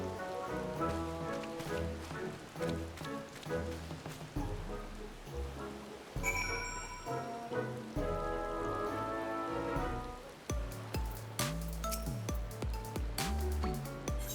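Rain falls in the video game Final Fantasy XIV, a steady patter of drops mixed into the game's music and clinking effects, continuous throughout without any speech.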